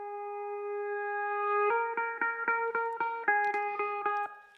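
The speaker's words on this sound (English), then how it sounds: "I've basically got this sort of like riser sort of thing going on" A reversed, stretched riser effect in a guitar instrumental: a steady held electronic tone swells slightly, then breaks into a rhythmic stuttering pulse that builds toward the next section.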